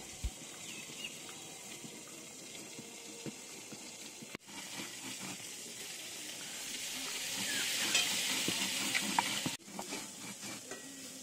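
Nor fruit fries with a little turmeric in a pan, a soft continuous sizzle with stirring scrapes that swells slightly midway, heard alone without talk.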